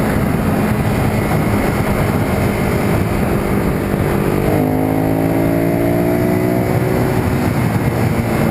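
A Ducati Monster 821 Stripe motorcycle engine pulls loudly while riding, a steady broadband roar under wind noise that climbs into rising harmonic revs midway through.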